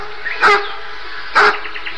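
Dogs give two loud, sharp barks nearby, about a second apart, with quiet between them and no speech.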